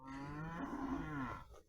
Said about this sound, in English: He's mooing at something.